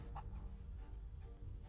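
A chicken in Rise of the Tomb Raider clucks and gobbles in short bursts amid game background noise, with no one talking.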